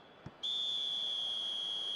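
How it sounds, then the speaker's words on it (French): In a football video game, a referee's whistle blows for half-time: a short tap, then one sustained shrill piercing tone that holds steady and loud to the end, with no voices. "Et c'est le coup de sifflet, c'est la mi-temps."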